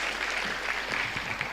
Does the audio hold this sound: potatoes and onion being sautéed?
no